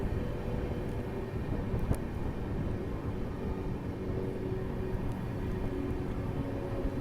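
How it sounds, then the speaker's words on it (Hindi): Marudhar Express rolling into Unnao Junction, a steady low rumble of train wheels and cars throughout, with no talk over it. "और अब अपना अराइवल हो चुका है उन्नाव जंक्शन पे।"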